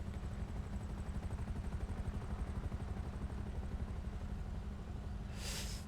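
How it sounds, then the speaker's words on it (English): Helicopter in GTA 5 circling nearby, a steady low rotor thrum and whine that stays loud and constant throughout, with a brief burst of noise near the end. "I don't like how much of the helicopter I can hear at the moment."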